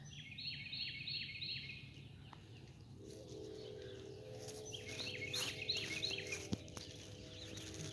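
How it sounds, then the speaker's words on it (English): Small birds chirp in a spring garden, giving short, quick bursts of repeated tweets at a distance over quiet outdoor background hum, with no talking. "birds are chirping."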